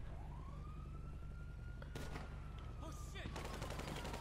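Gunfire in GTA V comes in sharp bursts, a short rattle followed by a longer sustained volley, with a police siren wailing behind it.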